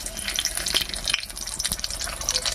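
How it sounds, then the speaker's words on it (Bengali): Dried red chilies and black cumin hit hot mustard oil in a kadai, giving a close, steady sizzle with crackling pops scattered throughout, and no voices over it. "তেল গরম হয়ে গেছে এবার তেলের মধ্যে দেবো শুকনো লঙ্কা"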